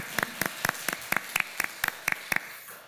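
A church congregation in a Sunday service claps in unison, about ten crisp, evenly spaced beats in a steady rhythm that then stop, with no talking.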